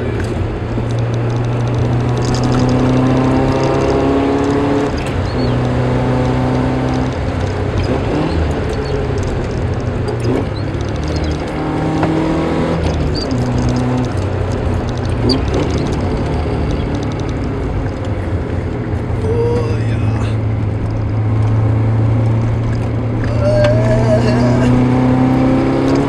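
A 4AG-engined Toyota KE70 runs downhill with an uneven carbureted drone that steadies as it goes, loud and continuous, with occasional pops and someone talking over the engine.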